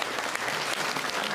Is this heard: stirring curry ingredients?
no